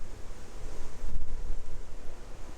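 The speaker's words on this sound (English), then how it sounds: "And here comes the wind." Outdoor wind at a golf course tournament, a steady rushing roar that buffets the microphone and swells in the middle, with no voices.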